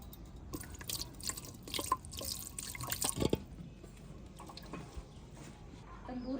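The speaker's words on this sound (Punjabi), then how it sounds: "ਇਹਦਾ ਨਾ ਮਿੱਠਾ ਪਾਣੀ ਬਣਾ ਕੇ ਤੇ ਇਹਦੇ ਨਾਲ ਛੱਟੇ ਦੇਵਾਂਗੀ ਤੰਦੂਰ ਨੂੰ" Sugar water sprinkled by hand onto a clay tandoor in a village yard: scattered wet splashes and drips over several seconds, moderately close, with no talking.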